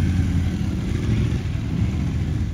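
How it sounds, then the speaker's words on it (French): Motorcycles pull away together toward a training ground, a steady broad engine rumble loud and close, with no voices over it. "Les participants sont ensuite montés sur leur moto pour se rendre sur le lieu d'entraînement."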